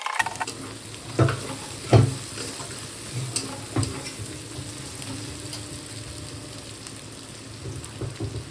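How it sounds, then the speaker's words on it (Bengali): Prawns fry lightly in a pan, a soft steady sizzle broken by a few sharp clatters of stirring, close and moderate in level with no talking. "চিংড়ি মাছগুলো হালকা করে ভেজে নিচ্ছি।"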